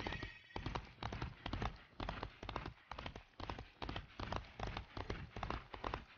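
Rhythmic galloping horse hooves in the Disney Infinity 2.0 video game toy box, a steady clip-clop pattern repeating throughout, fairly quiet and unbroken by talk.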